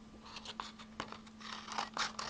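Scissors snip through paper while a handmade vintage-style card is being made in a home craft studio, giving a few quiet, crisp cuts in close succession.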